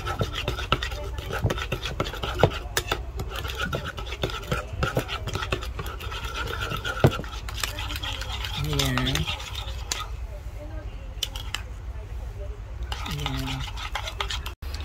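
Pork stir fry ingredients with chili are mixed in a pan, giving continuous scraping and stirring scratches with utensil clinks, close and fairly loud, while a person talks briefly over it.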